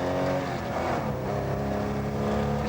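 A classic Ford Zephyr rally car engine roars loud and steady from close by as the car works through a hairpin on a stony road, its drone continuous throughout.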